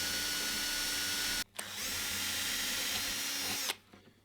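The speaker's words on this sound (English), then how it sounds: "And then just drill these 2 holes." Power drill boring two holes in a guitar, a steady high whine running about one and a half seconds, a brief stop, then a second two-second run before winding down, close and alone.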